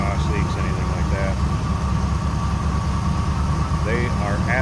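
A 1970 Chevrolet C10 pickup engine idles smoothly and steadily with an even low rumble, no ticking audible, while a voice briefly murmurs nearby.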